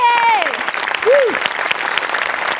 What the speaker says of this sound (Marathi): एकदा जोरात टाळ्या.